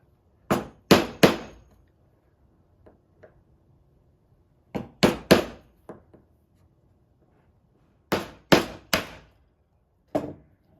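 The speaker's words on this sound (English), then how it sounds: "now we'll just chisel out the space for the pins" Chisel chopping out the waste between dovetail pins in a walnut board for a rustic dresser: three sharp, loud wooden strikes in quick succession, repeated in a few bursts with pauses and a couple of faint taps between.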